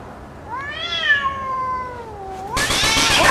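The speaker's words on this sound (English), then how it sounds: "Get out of here, damn cat" A cat lets out one long, drawn-out meow that bends downward in pitch, close and clear, then a sudden burst of hissing broadband noise takes over.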